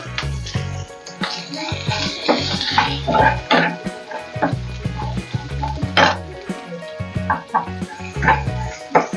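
Ginger and spices sauté in a pan for tomato chutney, with a steady sizzle and frying hiss plus scraping stirs and occasional clinks of utensil against metal, close and continuous throughout.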